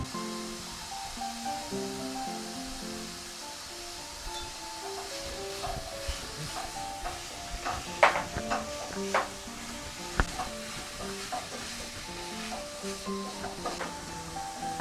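Chicken and potatoes fry in a single layer in a pan, a steady sizzle running throughout with scattered crackles and pops, close up and with no talking.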